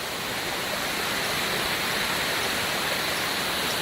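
Constant broadband rush of water flowing beneath rocks in a small stream along a dry stretch of trail on the way to Moab, loud and close, with no change in level and no voices.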